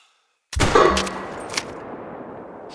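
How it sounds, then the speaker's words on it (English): One loud rifle gunshot in theHunter: Call of the Wild on the Emerald Coast: a sharp crack after silence, followed by a long rolling echo that slowly fades, with a faint second thump. "Try to shoot that target. Still using the rifle,"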